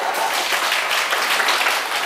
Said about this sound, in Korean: 박수 한번 부탁해요